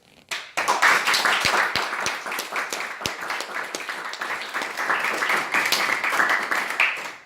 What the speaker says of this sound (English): Big round of applause for Zen Ul Abidin in his speech